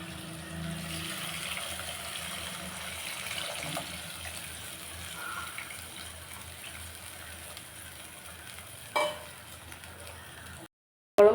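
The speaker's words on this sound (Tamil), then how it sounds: "அரிசி களைஞ்ச தண்ணியை ஊற்றிக்கலாம்." Rice-washing water poured into a tamarind curry with onion and garlic makes a steady liquid pour and gush that runs for several seconds, followed by a brief splash and a cut to silence.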